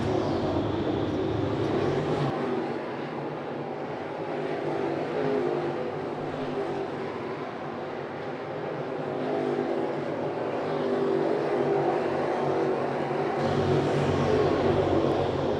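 Race cars roar around a track at the Harvey Jones Memorial, a dense, sustained engine drone from several cars that swells and fades slightly as they pass at a distance.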